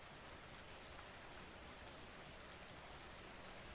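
Steady rain falls, a soft, even wash of drops on surfaces that holds constant with no pauses or talking, heard as a distant, faint background.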